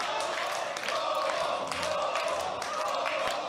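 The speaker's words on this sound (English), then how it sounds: "The crowd going nuts here" A crowd at a World Poker Tour tournament cheers and roars in a dense, continuous wall of voices, loud and steady throughout, with no single speaker standing out.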